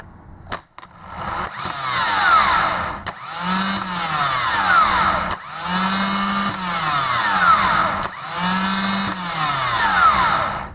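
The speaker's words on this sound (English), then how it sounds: "Now it's time to test our starter." A Ford Transit starter motor, clamped in a grounded vise for a bench test, whirs up in several loud bursts, each spinning for a couple of seconds with a rising then steady electric whine, separated by brief clicks and pauses.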